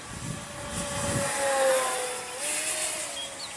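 A foamboard RC plane built for speed makes a half-throttle pass overhead, its small electric motor a thin buzzing drone that swells as it nears and fades slightly as it moves away, heard alone outdoors.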